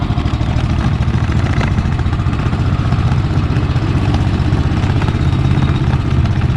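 A gas-powered EZGO Workhorse 1200 utility golf cart engine runs loud and close, a steady rough low chugging drone with a rapid even pulse throughout and no talk.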